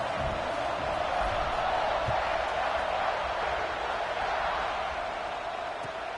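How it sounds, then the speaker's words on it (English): Steady, dense crowd roar filling a college football stadium after a score, loud and unbroken for several seconds with no single cheer standing out and no clear speech. "this crowd is buzzing after that last score"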